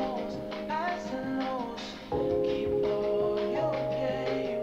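A produced beat built on a melodic vocal sample sitting back in the mix, with light percussion underneath, playing steadily throughout.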